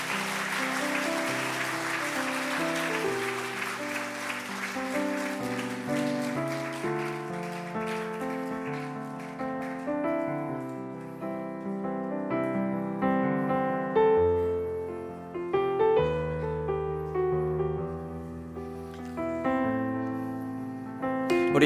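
A church congregation claps to welcome the Hallelujah choir at a 48th-anniversary service concert. Warm, steady applause fills the room, then fades as piano and organ music rise and take over.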